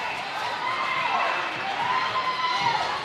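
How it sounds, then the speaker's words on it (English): A high school basketball crowd in a gym roars steadily after a fluky shot bounces in, a dense, sustained cheer with shouting voices that swells slightly toward the end. "you can hear it from the crowd"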